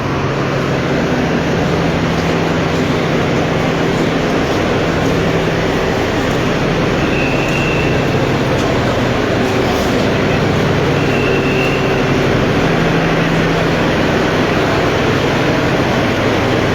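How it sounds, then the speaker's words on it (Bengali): The Chattala Express stands at a platform of Kamalapur station, arriving over two hours late, with a loud, steady rumble of train machinery and station noise running continuously, no voices. "চট্টলা এক্সপ্রেস সেই ট্রেনটি অবস্থান করছে 5 নম্বর প্ল্যাটফর্মে"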